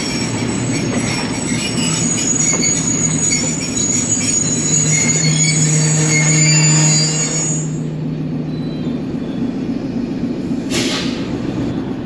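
A train hauled by a locomotive runs into a railway station on a single-line route, with loud steady rumbling rail noise, a sustained wheel squeal and a sharp hiss near the end, heard close by with no talking.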